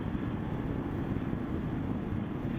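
A KLR motorcycle engine runs somewhere in the distance on a gravel outdoor loop, heard as a low, continuous rumble mixed with wind-like noise and no clear individual revs.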